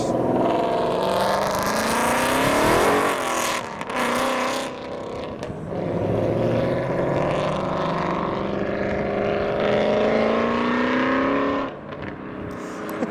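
A Ford Mustang with roughly 850 horsepower roars past at a busy car meet, its engine loud and close as it rises through the revs, eases briefly around four seconds, then climbs hard again before backing off near the end.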